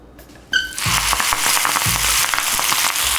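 Tied, stuffed romaine lettuce hitting a hot pan: a sudden loud sizzle bursts in after a short quiet start, then steady close frying crackle continues to the end.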